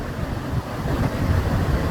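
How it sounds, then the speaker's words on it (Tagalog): Ocean surf at Claveria beach, a steady close wash of waves mixed with blustery wind buffeting the microphone, no voices. "Ayan yung alon nandito. Yan yung alon na surfer."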